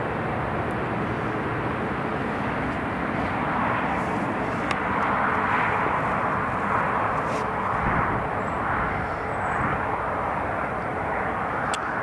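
An Italian Air Force C-27J transport aircraft landing at Newcastle International Airport gives off a steady, broad engine roar that holds at an even level throughout, with no talk over it.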